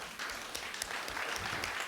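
An audience at a property owners' association annual meeting applauds a staff member, steady dense clapping from a roomful of people, moderately close and continuous throughout.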